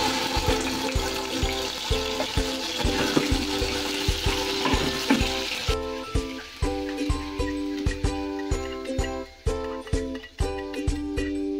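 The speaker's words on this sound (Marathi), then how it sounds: "दोन चमचे तेल टाकूया। कांद्याची पेस्ट टाकूया।" Onion paste fries in about two spoons of hot oil in a pan for a spicy chicken sukka, a loud steady sizzle with repeated stirring scrapes that turn into sharper rhythmic clinks as the sizzle fades halfway through.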